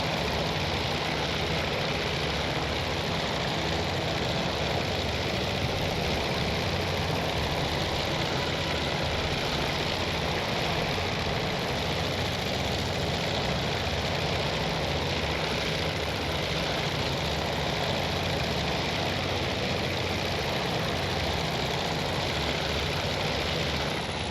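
Aircraft engine of a plane lining up on a carrier approach in Task Force Admiral, a steady, loud droning roar with heavy low rumble and a broad hiss, continuous and unbroken throughout, no voices.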